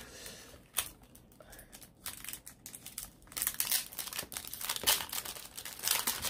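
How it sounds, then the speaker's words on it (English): Plastic packaging on a mail-delivered card is crinkled and torn open up close, a run of crackling crunches and rips that builds louder toward the end, with no talking. "Just destroy the plastic."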